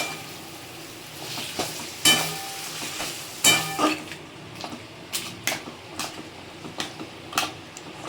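Taro leaves being stirred in a frying pan, with a soft sizzle under repeated scraping strokes of a spatula and a few sharper clanks against the pan.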